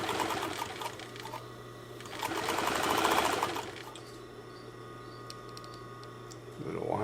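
Bernina 950 industrial sewing machine running a zigzag stitch, a steady rapid mechanical whirring that swells louder midway then settles back, with faint background chatter and a brief rise at the end.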